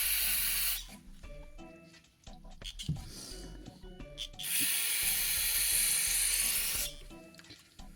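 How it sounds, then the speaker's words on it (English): Carb cleaner is sprayed into the carburetor of a 2005 Honda CRF150F in bursts of close hissing spray, separated by quieter clicks and handling noises in a small workshop. "Go ahead and shoot some carb cleaner down into here."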